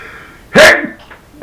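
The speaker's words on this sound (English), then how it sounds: "I got to sneeze." A single loud sneeze bursts out sharply, followed by a short breath, close to the listener.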